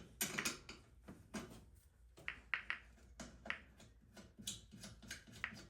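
A 10 millimeter wrench works on the throttle of a vintage Yamaha golf cart: quiet metallic clicks and ratcheting ticks come in short irregular bursts, close up, with no talking.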